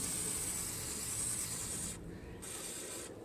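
WD-40 lubricant sprayed from an aerosol can onto the springs and joints of a Craftsman 5HP 24-inch two-stage snow blower, a steady close hiss broken by two brief pauses.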